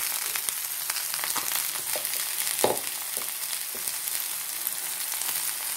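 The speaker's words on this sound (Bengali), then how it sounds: "তেল গরম হয়ে গেছে, আমি এবার লতিগুলো দিয়ে দেবো।" Taro stolons frying in hot oil in a vegetarian home kitchen: a loud, dense crackling sizzle that runs continuously, broken by scattered sharp pops and a brief clatter near the middle, with no talking.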